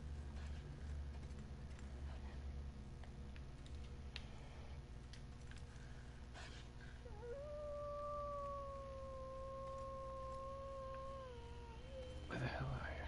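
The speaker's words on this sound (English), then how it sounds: "We got one wolf. We got two wolf." In the video game The Long Dark, a wolf howls in the distance, a long sustained wavering tone over a low game ambience, with faint footsteps and thuds before it and a louder bump just after.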